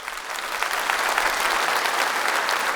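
A comedy-show audience bursts into steady, dense applause that holds at full strength for a few seconds, a close wash of clapping with no voice over it.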